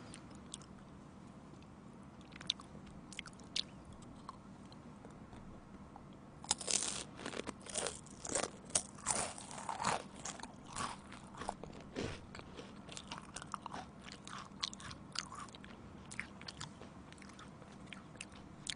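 Honeycomb is chewed close to the mic, with soft wet crunches and bites that grow denser and louder after a quiet start, over a faint background hum.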